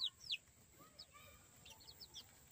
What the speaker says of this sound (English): I think that's a rooster, don't you?